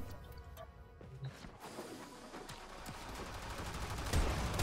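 Shotgun fire from a ten-shell magazine weapon in the video game Warframe, sounding as a dense spread of sharp blasts and impacts over steady in-game noise, with no talk.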